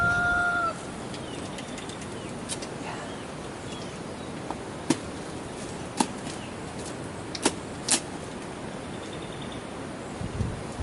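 Dekalb Brown chickens, about 14 weeks old, cluck sporadically on a farm over a steady outdoor background, with a few short calls standing out.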